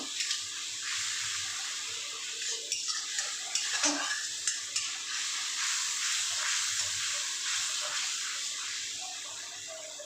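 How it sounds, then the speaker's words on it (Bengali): Fish curry with a splash of water is stirred in a pan, giving soft scraping and clinking against a steady background hiss, with a few sharper knocks near the middle and no talking. "এটার সঙ্গে একটু অল্প জল দিয়ে দিলাম এক দু মিনিট আমি নেড়ে নেবো"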